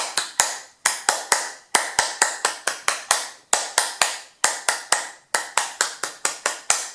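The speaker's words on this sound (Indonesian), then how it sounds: "2 kali tepuk pramuka." A group performs the Indonesian scout clap (tepuk pramuka) twice, crisp rhythmic hand claps in two patterned bursts of quick claps with short pauses between, close and loud with no talking.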